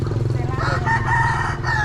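A rooster crows in a busy Thai market where chickens, pigs and ducks are sold. The crow rings out clearly over a steady bed of crowd noise and background chatter.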